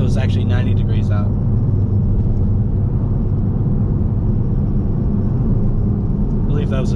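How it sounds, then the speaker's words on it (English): A Chevrolet Camaro ZL1 flies past on a hot day, a loud broad engine roar and road rumble filling the whole stretch, heard from inside a moving car as voices talk briefly at the start and end. "I believe that was a ZL1 that just flew by us."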